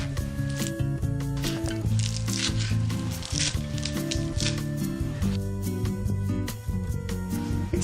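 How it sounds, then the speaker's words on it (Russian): Arugula is chopped with a knife on a board in a kitchen, a quick run of crisp cuts and soft squishing taps over steady background music. "Салат руккола также нужно нарезать."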